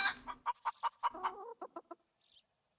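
A chicken in the video game Rising World gives a quick run of close, clear clucks, about a dozen short pulses with a faint high chirp at the end, heard alone with no talk.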